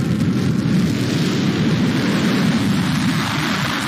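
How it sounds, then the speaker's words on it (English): The BE-3 engine of a New Shepard rocket booster relights during its landing descent, giving off a continuous, heavy, broadband roar that holds steady throughout. "we're going to get the BE-3 engine to restart"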